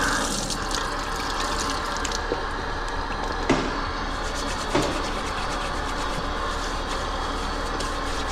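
Water pours steadily from a newly installed sink inside a workshop, a close, even rush with a couple of faint splashes.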